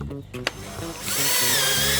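A power drill with a hole-saw bit bores into a plastic Coke bottle to enlarge a hole. After brief handling noises, the motor whines up loud and close and holds a steady high-pitched spin.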